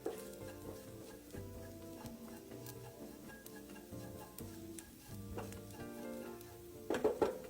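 Dried shrimp and minced garlic stir-frying in a pan, a continuous crackling sizzle with occasional scrapes and stirs of the utensil against the pan, louder clatter near the end, no voices.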